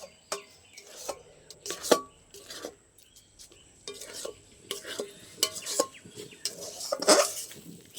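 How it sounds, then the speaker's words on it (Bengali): Nut-based sweet dough stirred and scraped in an iron kadai, a spatula scraping and knocking against the pan in irregular bursts, some louder clatters near the end, close and alone with no talk. "একদম ভালো করে নেড়ে নেড়ে শুকিয়ে নেব।"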